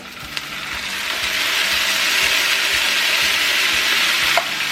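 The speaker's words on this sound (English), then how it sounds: "we're going to go ahead and add the tomatoes and their juices" Tomatoes and their juices go into a pan of translucent frying onions for huevos rancheros. A loud broad sizzle swells after the first second or so and holds steady and close, with a few small clicks.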